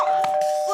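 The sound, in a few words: doorbell ringing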